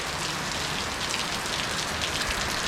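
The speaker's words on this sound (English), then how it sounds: "it's pouring rain outside, so there's no way to transport it" Heavy rain pours steadily outside in a dense, continuous hiss of drops striking surfaces, loud and unbroken with no voices.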